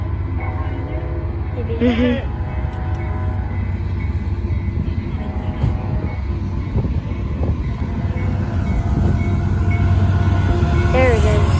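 A BNSF freight train rolls past outdoors near a ferry landing, a steady low rumble and wheel noise lasting throughout, with wind buffeting the microphone and someone speaking briefly over it.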